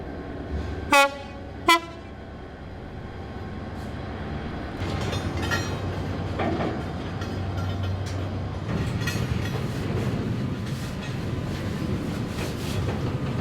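A coal train coming in announces itself with two short horn toots, then a long steady rumble and clatter of rail wagons rolling past, building slightly and continuing throughout at moderate distance.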